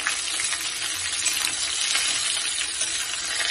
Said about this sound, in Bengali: ভালো করে নাড়াচাড়া করে ফুলকপিগুলো ওর মধ্যে অ্যাড করে দিলাম।